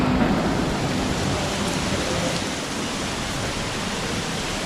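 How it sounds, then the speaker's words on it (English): Rain falling in Singapore, a steady broadband hiss that holds at even loudness throughout, with no voices. "Just in time because it started raining."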